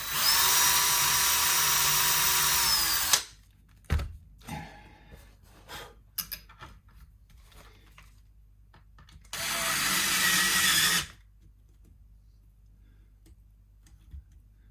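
A power drill bores into a Fender guitar neck for a partscaster build, running in two steady whining bursts separated by a stretch of quiet ticks and handling knocks.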